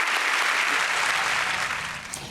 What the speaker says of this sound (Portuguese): E vamos dar para Jesus uma calorosa salva de palmas.